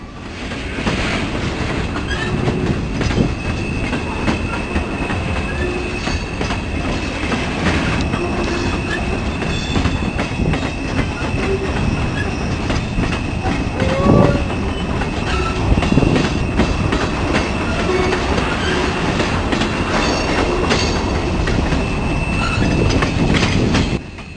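An Ohio Central train rolls through LM Cabin, the junction where Norfolk Southern and CSX lines cross, with a continuous heavy rumble of wagons, rhythmic wheel clatter and occasional faint squeals, steady and fairly close for the whole stretch.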